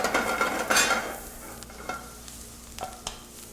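Onions sauté in a pan with a soft sizzle, while a utensil stirs and scrapes them in several distinct bursts near the start and brief clicks later, heard up close at low volume.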